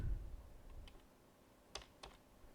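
A few sparse keystrokes on a computer keyboard while writing VB.NET code, soft clicks in a quiet room.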